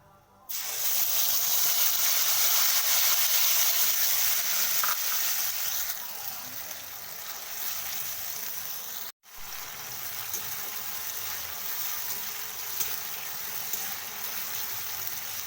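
Onion paste and chilli frying in a pan for a Bengali rui fish rezala, a loud continuous sizzle and hiss close up after the paste drops in, briefly cutting out partway, with no talking.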